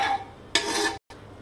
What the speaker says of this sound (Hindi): अब इसमें हम पोर कर रहे हैं अपनी बॉइल्ड एंड मैश्ड वेजिटेबल